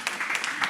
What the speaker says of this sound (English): let's give the people who set up these things within like 30 seconds a round of applause